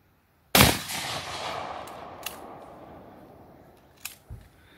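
A single loud, close gunshot fired at a TV box outdoors, with a long decaying echo, then a couple of faint clicks and a dull thud.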